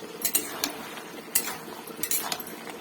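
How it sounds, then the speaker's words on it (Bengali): A spoon stirs Malabar spinach leaves and stems cooking in a pan, giving irregular metallic scrapes and clinks over a soft background hiss. "তো এইভাবে নাড়াচাড়া করে নে ওই মুটলিটা রান্না করে নেবো"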